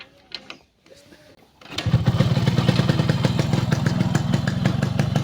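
A Yamaha RX 100 motorcycle in fresh condition starts after a few quiet clicks and settles into a loud, close two-stroke idle with a rapid, even putter that continues to the end.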